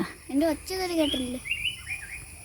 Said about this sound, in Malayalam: ആ സൗണ്ടൊക്കെ അതിൻ്റെ. ഈ പക്ഷികൾ ഭയങ്കര മിമിക്രി കലാകാരന്മാരാണ് കേട്ടോ